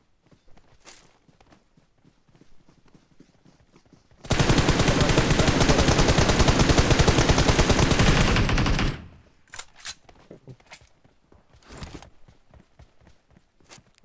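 A long, loud burst of rapid automatic gunfire in PUBG Mobile lasts several seconds, with quieter footsteps and shuffling before and after it.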